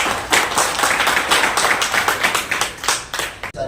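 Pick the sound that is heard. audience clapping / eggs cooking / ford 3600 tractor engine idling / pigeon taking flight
audience clapping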